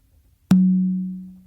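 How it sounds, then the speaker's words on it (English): A single open stroke on a tumba conga drum, struck once with the dominant hand, gives a sharp attack and then a clear, ringing low tone that fades over about a second, heard alone. "Then I do an open on the tumba to my right or to my dominant side."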